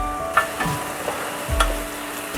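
Onions sizzle and fry with a little salt in a pan while Indian chicken mince curry is being cooked, a steady close crackle with a few brief stirring clinks and no talk.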